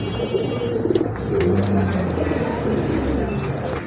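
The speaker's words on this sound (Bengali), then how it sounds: "আরেক জোড়া কবুতর, এটা হচ্ছে আপনার রেড চেকার কবুতর" Red checker pigeons coo in low, throaty, repeated calls, close by, over a steady murmur of background voices and ambient noise.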